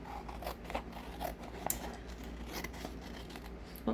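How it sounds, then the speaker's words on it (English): Scissors snipping off excess paper while finishing a handmade card, a string of close, crisp cuts with soft rustling in between. "And then I flip it over and I just cut off the excess."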